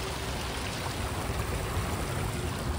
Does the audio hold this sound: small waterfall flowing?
yes